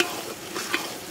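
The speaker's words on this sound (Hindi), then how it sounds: "ये मसाला अब काफ़ी देर तक भुनता रहेगा।" Masala stirred and roasted in a pan while desi chicken is cooked with mahua liquor outdoors by a riverbank; a steady close sizzle runs throughout with soft scraping stir strokes, no talking.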